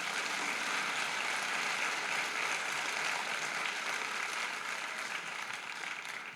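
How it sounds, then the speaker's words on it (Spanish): Congregation applauding in a Spanish-language church family gathering, a continuous, even roar of many hands clapping that holds steady throughout and eases off slightly at the end, with no voices over it. "Le damos un aplauso al Señor por eso."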